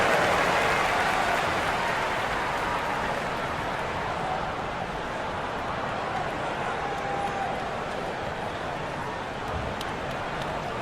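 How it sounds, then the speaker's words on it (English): Simulated arena crowd applauding in the NBA 2K25 basketball video game during a preseason 76ers versus Magic game, a steady dense wash of clapping and crowd noise that slowly eases, with commentary voices underneath. "Big round of applause for the 407."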